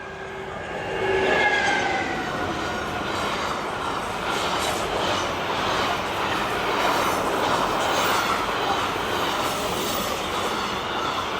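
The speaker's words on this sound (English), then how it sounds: "there's a big train coming right past the track" A big train rolls past close on the track, a steady loud rumble of wheels and cars with faint squealing tones, running continuously without voices.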